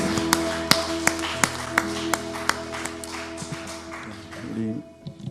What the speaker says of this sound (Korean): 우리 좋으신 하나님 아버지께 감사와 찬양의 박수로 영광 돌리겠습니다.